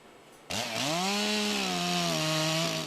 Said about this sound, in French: Les tronçonneuses hurlent, ces élagueurs sont sur le pont